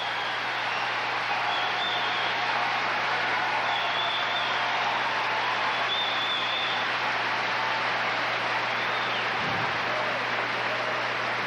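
Crowd applause fills an arena for a Canadian gymnast at the 1994 Commonwealth Games women's team gymnastics in Victoria, a steady, dense wash of clapping that holds evenly throughout.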